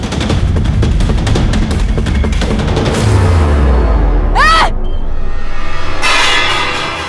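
Rapid gunfire bursts in a Crime Patrol crime TV drama scene, loud and dense, with a descending boom and swooping effect tones mixed in, no talking.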